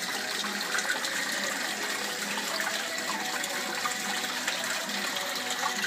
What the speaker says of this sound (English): This is the drain pipe, which will flush the top and then fill it back up again every 2 minutes.